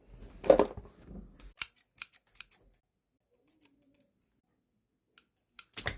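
Scissors cutting a pencil eraser for a dinosaur-themed school-supply craft, a few close snips and small clicks followed by near silence and a couple of faint taps.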